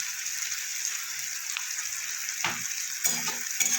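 Onions sizzle steadily in a hot pan with salt added, a soft continuous frying hiss, with a few stirring scrapes and clatters near the end.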